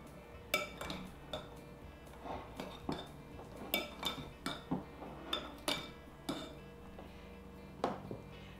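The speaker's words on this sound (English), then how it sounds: "I'm gonna put a little bit and then stir it up" A mustard and maple syrup dressing stirred in a bowl, with a utensil clinking against the sides in a run of sharp, close taps and scrapes spread through the clip, no talk.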